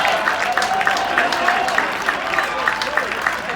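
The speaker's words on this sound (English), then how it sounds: "I dare you to give Jesus a big hand clap of praise right now." A church congregation clapping hands in praise at a revival service, a dense patter of many hands under a voice speaking over it.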